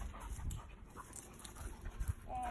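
Quick, breathy panting from small puppies, rapid and close, with a few soft whimpers mixed in.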